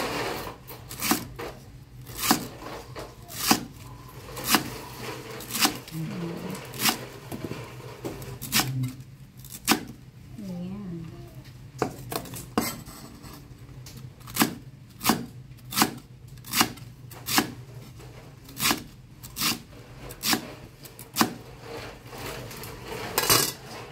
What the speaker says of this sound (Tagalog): So, slice lang natin siya ng maliit.